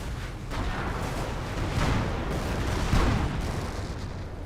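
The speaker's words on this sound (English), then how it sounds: "Explosion." A rumbling in-game explosion in Company of Heroes, a World War II strategy game, with a few booming bursts and crackling blasts amid ongoing battle noise, no voices.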